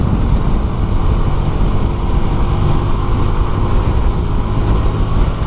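A Xtreme 160 motorcycle rides along a road near Rewari, leaning into a bend, with a steady, loud rush of wind and a low engine drone running unbroken throughout.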